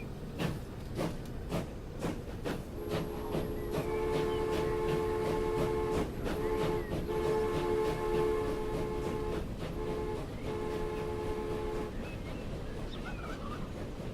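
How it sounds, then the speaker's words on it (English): Trains pulling into a station in the Transport Fever video game, with repeated horn or whistle blasts in sustained tonal bursts and rhythmic clicking over a steady rumble. "Look at this, the third train's even arriving too."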